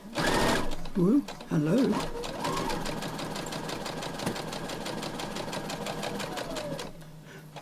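A sewing machine runs steadily while stitching patchwork fabric for a tablet pouch, a close, even mechanical whirr lasting several seconds before slowing, with a brief spoken exclamation at the start.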